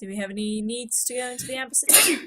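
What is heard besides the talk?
sneeze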